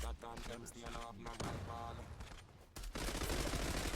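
Rapid gunfire bursts in a fast-paced video game, dense and continuous with brief pauses and a heavy volley near the end, while a voice speaks over the shooting.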